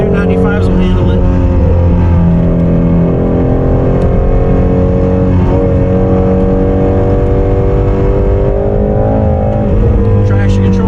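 A Ford Mustang Shelby GT350 V8 on feathered throttle climbing a hill: a loud, steady engine drone with pitch shifting gently as the throttle is modulated. Someone talks over it throughout.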